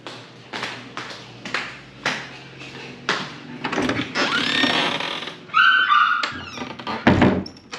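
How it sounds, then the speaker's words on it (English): A dog close by making loud, sharp yelps and whining cries in short bursts, mixed with knocks and thumps, all fairly loud. "Oh, Hannah's dog is so loud."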